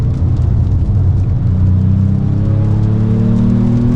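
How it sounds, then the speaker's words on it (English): Engine of a 2025 Ford Maverick Lobo with a 7-speed automatic on a race track, a loud, dense rumble that rises and shifts pitch as the transmission changes gears, with no talk over it. "Nice downshifts there, not holding me back."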